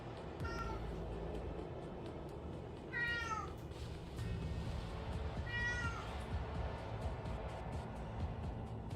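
A pet cat meows three times indoors, each call a rising-falling mew spaced a couple of seconds apart, moderately close over a low, steady background hum.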